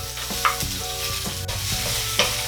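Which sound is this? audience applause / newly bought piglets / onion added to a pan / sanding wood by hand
onion added to a pan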